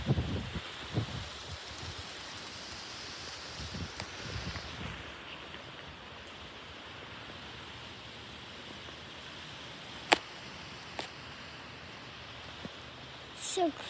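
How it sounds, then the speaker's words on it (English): Gusty wind sweeping through an outdoor setting in Phoenix, Arizona, a steady broadband rush that swells early on and eases later, with a few sharp knocks and scrapes near the end and no speech. "There's so much wind."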